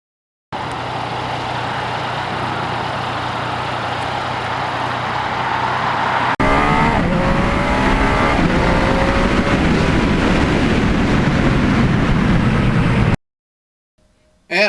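Yamaha MT-09 motorcycle engine droning steadily while riding, a loud continuous roar that rises sharply midway as the rider accelerates through quick-shifted gears with rising tones, then cuts off abruptly.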